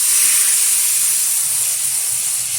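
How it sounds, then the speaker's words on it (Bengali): Water poured into a hot pan of fried spices and potatoes for a fish curry, a loud continuous hissing sizzle throughout, close and alone. "দিয়ে দিচ্ছি পরিমাণ মতো জল।"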